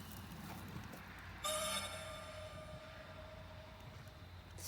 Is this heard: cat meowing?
no